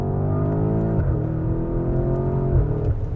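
A 2024 Porsche Cayenne Turbo GT's 4-liter twin-turbo V8 pulls hard at full throttle, a loud, steady engine drone with rising harmonics and a brief dip near the one-second mark like a gear change, with no talking.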